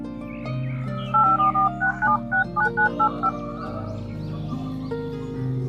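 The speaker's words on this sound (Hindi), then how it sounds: "कॉल करती हूँ।" A rapid run of about a dozen electronic dialing tones, evenly paced and fairly loud, over a bed of steady background music.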